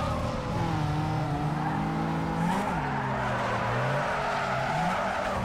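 A car drifts in the racing game Need for Speed Underground 2, its engine droning loudly as the tires squeal in long wavering tones that rise and fall throughout, with no voices.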